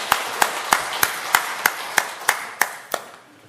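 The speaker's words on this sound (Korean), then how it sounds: "하나님께 영광의 박수를 보내겠습니다" A congregation in a church gives about ten slow, evenly spaced unison claps, each crisp and close, fading slightly toward the end with no talking.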